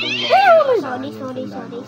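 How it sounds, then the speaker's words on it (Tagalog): A cat meows once with a clear, rising-then-falling cry, close and loud, followed by softer trailing vocal sounds. "May pusa kasi."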